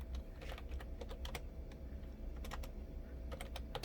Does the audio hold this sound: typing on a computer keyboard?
yes